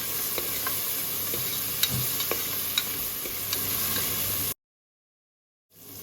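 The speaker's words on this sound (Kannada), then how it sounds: "ಇದಕ್ಕೆ 1 ಈರುಳ್ಳಿನ ಹಾಕಿ ಸ್ವಲ್ಪ ಫ್ರೈ ಮಾಡಿಕೊಳ್ಳಿ." Onion and tomato fry in hot oil for mutton chops gravy while a spoon stirs them. A steady close sizzle carries scattered scraping taps, then cuts to a brief silence before resuming faintly.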